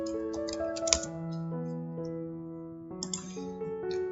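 Keys clatter on a computer keyboard in quick irregular bursts of close clicks, heard over a steady background hum.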